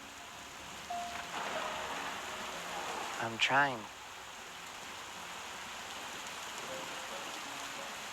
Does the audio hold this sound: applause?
no